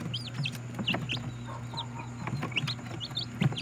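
Several chickens cluck and chirp close by in short, scattered calls over the steady low hum of an egg incubator, with no talking.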